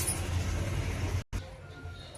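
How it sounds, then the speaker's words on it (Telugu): A mixer grinder blends mint and raw mango chutney with a loud, steady motor whir. It cuts out for a moment partway through, then carries on more softly. "మిక్సీ పట్టేస్తానండి."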